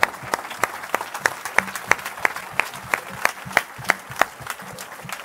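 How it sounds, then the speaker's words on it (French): A congregation at a church service applauds steadily, with rhythmic, evenly spaced claps standing out over a continuous background of clapping. "il mérite les acclamations, le Seigneur."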